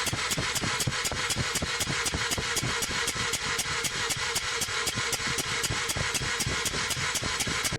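Mazda RX-8 rotary engine cranking over on the starter during a compression test, a loud, close, continuous churning with rapid even pulses throughout and no voices.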